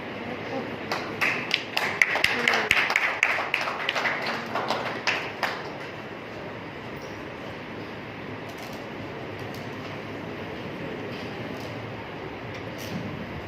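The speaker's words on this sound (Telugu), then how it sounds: "క్లాప్స్ కొట్టండి, క్లాప్స్ కొట్టరా, క్లాప్స్ కొట్టు." An audience clapping hands, a dense burst of many claps that lasts several seconds and then stops abruptly, leaving steady room noise.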